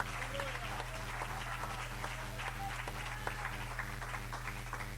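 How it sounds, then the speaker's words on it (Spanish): A Pentecostal church congregation claps together, soft and a little distant, over a steady low hum, with some voices mixed in. "Démosle un aplauso al Señor."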